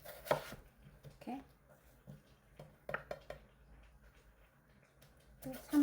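A knife chops radish on a cutting board for kkakdugi, making a few separate, close thuds spaced irregularly across a quiet room, and someone speaks briefly between the cuts.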